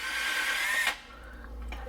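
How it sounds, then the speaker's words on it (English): A power drill whines loudly while reversing out of a stripped oil pan drain hole on a Honda, then cuts off abruptly, leaving a low rumble afterward. "Now once my drill makes it in there, I'm going to go ahead and reverse it out."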